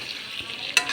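A spoon stirs potatoes into a pumpkin and chicken curry in a pan, a brief close scraping swirl over a soft sizzle.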